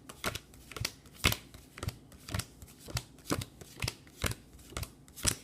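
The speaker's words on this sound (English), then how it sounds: "So you want to shuffle your deck." Crisp, evenly spaced snaps of playing cards being shuffled, about two per second, close and clear with no voices.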